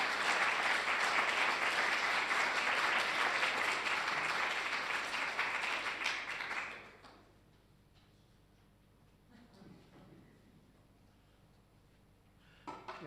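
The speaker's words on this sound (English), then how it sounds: "let's give him a round of applause" Audience applause at a FOPA 2025 event fills the first seven seconds with steady, dense clapping, then stops abruptly, leaving quiet room tone with a faint knock near the end.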